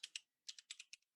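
Keys clatter on a computer keyboard as text is entered into a Word document, a few quick taps, a pause, then another short burst of keystrokes, close and fairly quiet.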